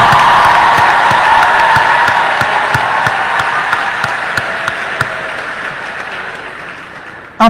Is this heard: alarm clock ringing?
no